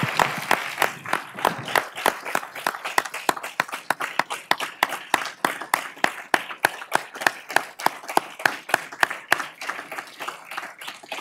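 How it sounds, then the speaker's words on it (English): Lecture audience applause for Dr. E. Dale Abel, dense and even clapping from many hands that holds steady for several seconds with a few sharper individual claps standing out. "So let's give Dr. Abel a wonderful round of applause."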